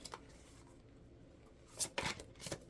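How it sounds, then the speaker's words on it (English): Oversized tarot cards being shuffled by hand, heard as faint, brief papery riffles that cluster in a short burst near the end of an otherwise quiet stretch. "It's very awkward to shuffle them."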